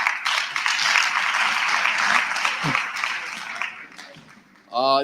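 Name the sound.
audience round of applause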